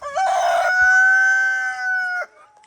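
A rooster in a backyard chicken coop crows once, loud and close, a single sustained cock-a-doodle-doo with a short clucking lead-in, ending in quiet.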